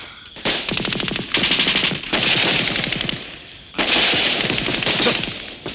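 Loud, sustained machine gun bursts fill a film battle scene, three long rattling volleys with short gaps between them, close and dominant with no talking.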